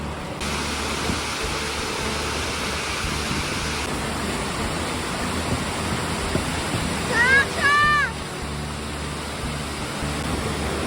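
Steady broadband roar of falling water at Plitvice Lakes National Park in Croatia, continuous and fairly loud throughout, with a brief higher chirping sound near the end and faint voices mixed in.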